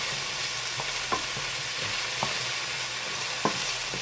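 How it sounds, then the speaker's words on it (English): Mushrooms sizzle steadily in butter in a hot pan as their water cooks out, a constant hiss with a few soft clicks from a utensil stirring. "If you heard that sizzle that's in the pan, that's the water coming out of the mushrooms."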